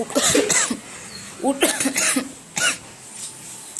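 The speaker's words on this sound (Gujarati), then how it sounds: "થોડી હજુ ઉધરસ છે." Several close, harsh coughs come in short bursts, a cluster at the start, another in the middle and one more near the end.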